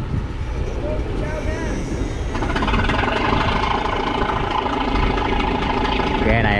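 A trawler boat's engine chugs steadily at close range, growing slightly louder partway through, with people talking over the running motor.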